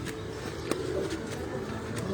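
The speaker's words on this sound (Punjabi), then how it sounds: "ਇਹ ਜੀ ਪ੍ਰਵਾਸੀ ਕਬੂਤਰਾਂ ਦਾ" Migratory pigeons cooing on a rooftop, a soft low murmuring coo carrying steadily through the whole stretch, with faint background noise and a brief sharp click partway through.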